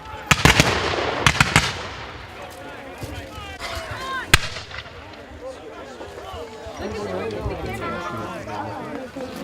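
Several sharp cannon booms ring out early at a Civil War battle reenactment, spaced irregularly and somewhat distant, with a crowd chattering and talking throughout.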